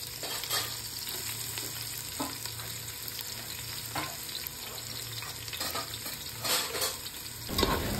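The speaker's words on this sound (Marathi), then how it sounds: "आता आपण हा कांदा फ्राय करायला टाकूयात" Sliced onions fry in plenty of oil in a large pot, giving a continuous close sizzle with occasional sharp clatters of stirring and a thump near the end.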